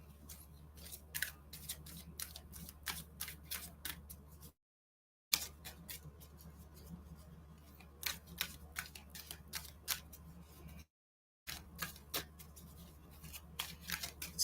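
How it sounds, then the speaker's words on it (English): A tarot deck being shuffled, with quiet rapid clicks and riffling snaps in uneven bursts, close by, separated by two brief silent gaps. "let's get these good and shuffled."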